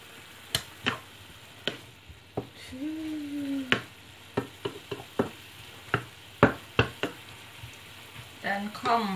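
Chinese cabbage with pork is stir-fried in a wok with oyster sauce, soy sauce and sugar, a low sizzle under repeated sharp clanks and scrapes of the spatula against the pan, close and irregular.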